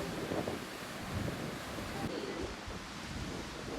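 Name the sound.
strong wind and rough sea waves at Samila beach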